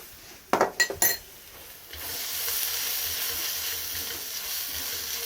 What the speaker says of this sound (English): So now we're going to add in our garlic.